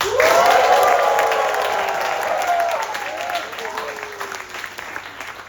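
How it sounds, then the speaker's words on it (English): An audience at a Toastmasters speaking contest practicing applause, a dense roar of clapping with cheering and whistles, loud and sustained before slowly fading, with some voices mixed in. "And now we are going to practice applause for 10"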